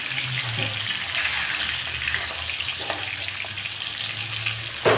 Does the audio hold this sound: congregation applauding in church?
no